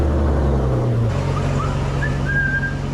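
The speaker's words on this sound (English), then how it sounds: "Now the thing to do is turn on the engine" A 1998-2001 Jeep Cherokee XJ engine settles into a steady idle after a brief shift at startup, a continuous low hum with a faint whine rising above it.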